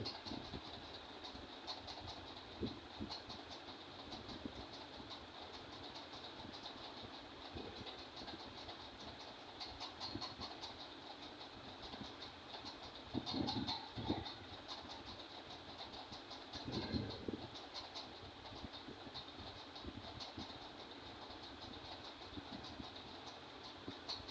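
Faint, steady chattering of a sewing machine runs along the V-neck of a kameez, with a couple of louder, denser stitching bursts partway through and no speech.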